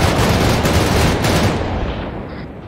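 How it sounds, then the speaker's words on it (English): Dense, loud bursts of rifle fire in Arma 3 pour onto the barracks in a sustained roaring volley that fades out toward the end, with no voices. "he's shooting at barracks"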